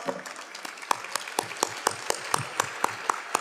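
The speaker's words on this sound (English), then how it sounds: "Can you please stand up and give them a big round of applause?" Sparse applause from a small audience at a conference business lunch: a handful of distinct, evenly spaced claps ringing out clearly in a quiet room.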